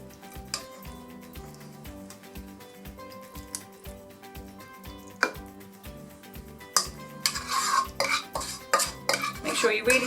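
A metal spoon scrapes and knocks around the sides of a lasagne dish in a steady run of close clinks that grow louder and busier toward the end, with no talking.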